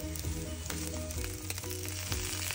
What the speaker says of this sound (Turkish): Bir iki tane de patlıcan kızartıyorum.